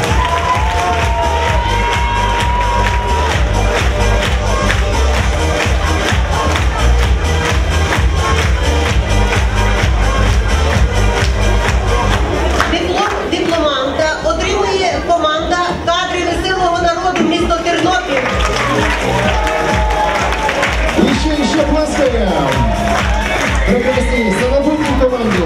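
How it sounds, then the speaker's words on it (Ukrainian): A large audience at a KVN comedy gala concert in Ukraine claps and cheers loudly and steadily, with whoops and crowd noise filling the hall; the applause swells, then thins slightly before picking back up. "Ваші аплодисменти команді з Донбасу."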